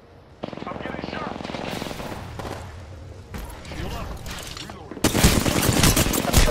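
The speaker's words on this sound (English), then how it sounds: "I'm getting shot." Rapid gunfire in the Apex Legends video game hits the player, loud continuous bursts that intensify sharply toward the end of the clip.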